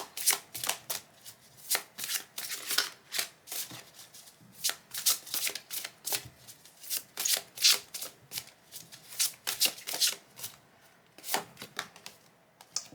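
Tarot cards shuffled by hand for a reading, a close, soft, continuous riffling and flicking that comes in uneven bursts, with no talk.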